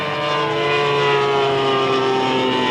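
A scratch-built scale model Fairey Gannet taxiing at a model air show, its engine giving a steady, loud droning whine with no break.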